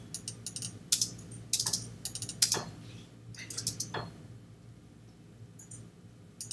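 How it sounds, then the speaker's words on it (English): Mechanical knocking and clicking from inside a Baldwin piano, a series of sharp irregular clacks in clusters over a low steady hum, fairly close and with no voices. "It sounds like it kind of made a knocking sound."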